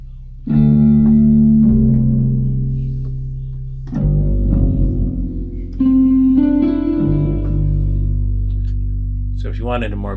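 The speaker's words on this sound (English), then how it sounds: "Turn our echo back up." A heavily reverberant echo effect turned up on an audio mix, with sustained tonal notes that ring out and trail in long decaying repeats across several distinct bursts.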